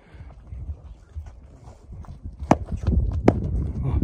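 A young horse led at a walk, hooves clip-clopping on the ground in an irregular close rhythm, with a couple of sharper knocks and muffled background noise.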